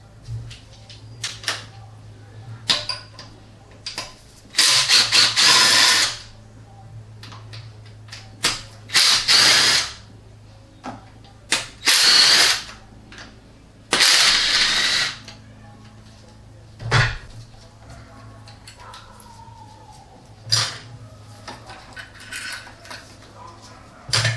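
Bolts and nuts being removed from the coolant filler neck on a Lexus ES300 V6, with bursts of ratcheting wrench clicks separated by short pauses and small metallic handling sounds close by.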